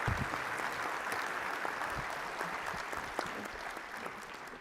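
Sustained audience applause at a floodplain management conference plenary, dense and steady throughout, fading slightly toward the end with no talk over it.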